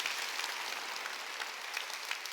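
Brief burst of church congregation applause, a dense even wash of clapping heard at a moderate distance with no talking.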